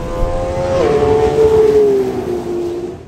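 The naturally aspirated engine of a Ferrari 12Cilindri revs up sharply to a loud, smooth tonal howl, then settles and drops back down over about three seconds, heard close with no voices.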